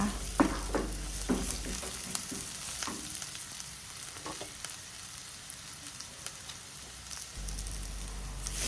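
Ridge gourd for a coconut-milk curry with chana dal is stir-fried in a pan, with a continuous soft sizzle and intermittent scraping stirs and clinks from the utensil throughout.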